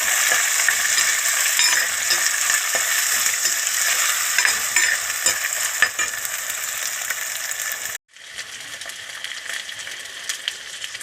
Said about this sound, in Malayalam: എനിക്ക് ഇഞ്ചി പച്ചമുളക് വേപ്പിൻ്റെ ഇല വെളുത്തുള്ളി ഉള്ളി വെല്ലുള്ളി എല്ലാതും കൂടിയിട്ടിട്ട് വാടി വരട്ടും